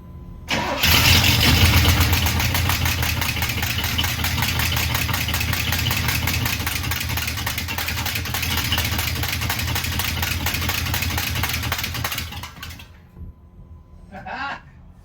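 A 1991 Pontiac Trans Am fitted with 12 oz mufflers cranks over and settles into a loud, steady idle for about twelve seconds before shutting off, followed by a short faint noise.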